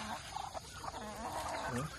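Backyard chickens and ducks in a rural province yard give short clucking, gobbling calls in a loose, uneven cluster, fairly close and alone.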